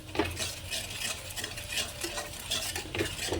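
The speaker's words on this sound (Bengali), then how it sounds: "হাতে ডোলে কসুরি মেথি পাতাও দিয়ে দিলাম এটাও একটু একে রোস্ট করে নিচ্ছি" Dried fenugreek leaves, kasuri methi, roasted in a pan while being stirred, giving steady scraping and rustling strokes with a soft low sizzle underneath, moderately close and without speech.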